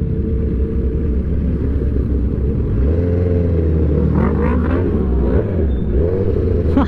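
Sport motorcycles, including a Kawasaki ZX10R, on a Sunday morning group ride, rumble loudly and continuously, with engine pitch rising and falling as riders rev near the listener.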